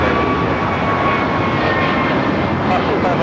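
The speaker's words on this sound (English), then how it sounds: "This is American Airlines 813 taking off to Philadelphia on the A321neo." An American Airlines A321neo jet takes off from LAX bound for Philadelphia with a loud, steady, broad engine roar throughout, while people talk over it.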